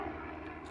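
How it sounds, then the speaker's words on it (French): A helicopter flying overhead near a French level crossing, a steady low droning engine rumble, faint and distant, in a brief moment with no talk. "Il y a l'hélicoptère aussi, mais on s'en fout."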